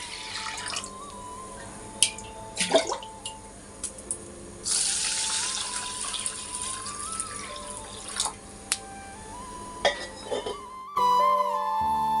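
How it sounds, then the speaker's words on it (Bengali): A kitchen tap running to soak rice, heard as a steady rush of water that swells for a few seconds in the middle, with scattered clinks and drips nearby and no talk. "চলো চালটাকে ভিজিয়ে নিই"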